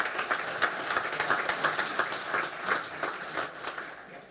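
An audience at a 2023 general assembly held at the Citadelle de Namur claps steadily, a moderately loud, rhythmic patter that keeps up throughout before tapering slightly at the end.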